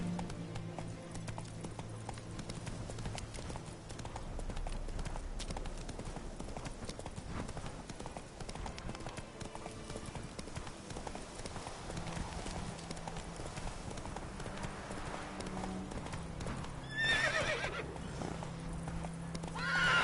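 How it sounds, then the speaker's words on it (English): A horse in The Witcher video game gallops with continuous clip-clop hoofbeats and lets out a neigh near the end, set against a quiet game soundscape at moderate level. "Run, Roach. Slow now. Whoa"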